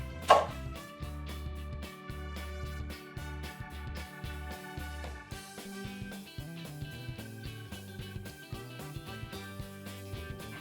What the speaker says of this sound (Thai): ขั้นตอนแรกเราจะมาหั่นพริกกันก่อนนะครับ